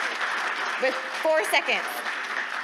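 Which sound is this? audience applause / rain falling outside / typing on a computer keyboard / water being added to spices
audience applause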